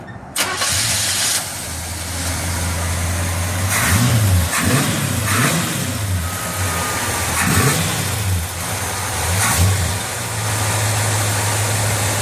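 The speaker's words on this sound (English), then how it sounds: "Let's start the engine up and hear it there." A 1958 Chevy Apache truck engine cranks and catches, then settles into a loud, close idle with a few throttle blips rising and falling before it steadies again.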